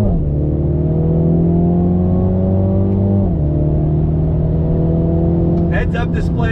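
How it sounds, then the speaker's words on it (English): A 2020 Mini JCW Clubman pulls hard in second gear, its engine tone rising steadily and loudly, dipping briefly mid-run before climbing again, with a short voice at the very end. "acceleration test, second gear on throttle"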